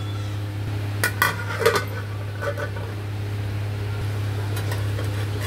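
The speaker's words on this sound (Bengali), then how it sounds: "এবার এটাকে আমরা ঢেকে 15 থেকে 20 মিনিট এটাকে সিদ্ধ করে নেব।" A metal pot being covered with its lid while chicken, potato and pointed gourd are set to boil, giving a few close clinks and clanks of lid on rim over a steady low background hum.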